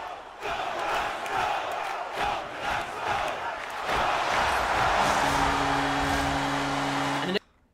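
A large hockey arena crowd in the NHL 24 video game roars and chants in rhythmic bursts, loud and continuous, with a sustained horn-like tone near the end before it cuts off abruptly.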